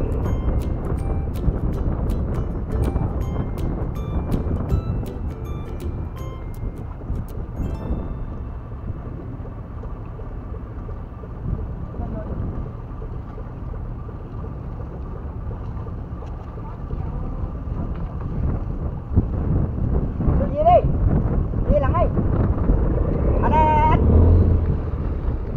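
A boat engine runs during a test run at a boatyard slipway. It makes a steady low rumble mixed with gusty wind noise, and faint voices and a few sharper knocks come in near the end.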